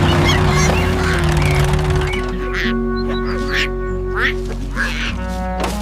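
Cartoon duck quacks, a few nasal honking calls over a steady musical backing, loud and close.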